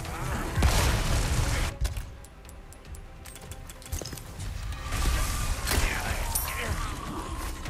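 Explosion with debris in Resident Evil 4 (2023), booming blasts followed by rattling clatter and metallic tinkling, with speech mixed in.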